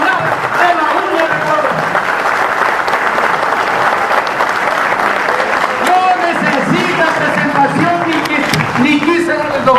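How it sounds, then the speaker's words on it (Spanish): A crowd at a teachers' union forum bursts into sustained loud applause, dense clapping holding steady for the whole stretch, with voices calling out beneath it. "Quiero arrancar aplausos para este líder nacional de la UNE"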